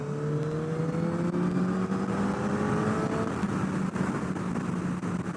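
A Suzuki Hayabusa GSX1300R Gen-3 motorcycle accelerates hard to overtake on the autobahn, its engine note climbing steadily and loud and close over constant road and wind roar, with no talk.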